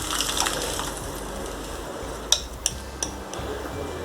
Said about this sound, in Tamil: இப்போது நம்ம கரைச்சி வச்சுருக்கிற கடலை மாவை இதில் ஊற்றிக்கலாம்